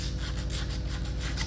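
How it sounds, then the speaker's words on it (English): Steady, rhythmic rasping of sandpaper worked briskly against rusty metal on a Dana differential, close up and continuous, with quick back-and-forth strokes and no voices. "so we'll be sanding that off. You can use some emery paper, sandpaper, whatever."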